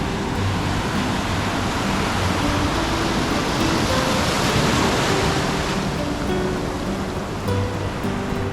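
Ocean waves break and wash continuously at Phuket, Thailand, a loud roaring surf with some wind rumble, swelling slightly in the middle, no voices.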